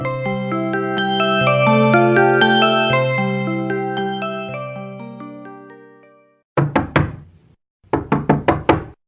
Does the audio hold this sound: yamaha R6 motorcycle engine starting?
no